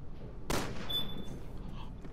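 A single sharp gunshot in Resident Evil 6, fired at a circular target, cracks once and then trails into a thin ringing tone against quiet game ambience.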